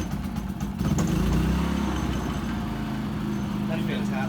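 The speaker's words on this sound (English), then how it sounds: "Jose, go ahead, fire it up, warm it up for a couple minutes before we get underway" A Westinghouse iPro4200 inverter generator starts after a second and settles into a loud, steady mid-pitched engine idle close by, with voices talking nearby.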